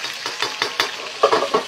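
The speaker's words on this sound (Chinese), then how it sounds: "首先煎鱼不粘锅，热锅热油润好就不粘。" Fish fries in hot oil in a wok with a short burst of crackling sizzle broken into quick, rhythmic pulses.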